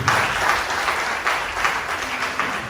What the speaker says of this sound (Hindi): हमें जोर से ताली बजाए प्रभु की।